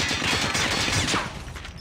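Dense, continuous rapid-fire gunfire from a video game shooter fills the moment, loud and close in a sustained rattling burst that eases slightly toward the end.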